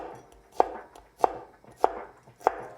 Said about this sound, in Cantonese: 蒜頭咧就切片啦